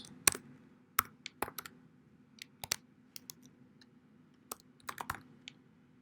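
Keys on a computer keyboard are typed in short, scattered bursts while code is written, with soft, close clicks separated by pauses against a quiet room.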